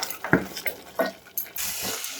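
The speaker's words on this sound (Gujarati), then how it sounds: "થોડું પાણી એડ કરીશું." A little water goes into dal cooking in a pot for a Gujarati dal papad curry, heard as a few close splashes and clinks, then a brief steady pour.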